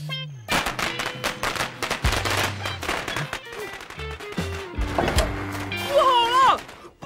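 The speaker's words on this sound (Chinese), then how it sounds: "放鞭炮！" Firecrackers go off at a wedding scene in a film, a rapid series of sharp, loud bangs and crackles that layer over music and voices.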